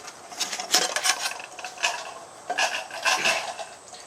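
Metal clanks and scrapes come from the lid and small frying pan of an Esbit pot set as they are handled, giving irregular close rattles and clinks without any talk.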